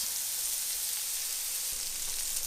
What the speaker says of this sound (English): Give me that sizzle